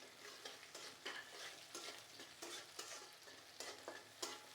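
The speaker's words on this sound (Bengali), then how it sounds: "এখন দিয়ে দিব পেঁয়াজ কুচি," Chopped onion hisses and sizzles as it fries in a pan, with rhythmic scraping stir strokes about every half second over a steady, quiet frying crackle; no voices.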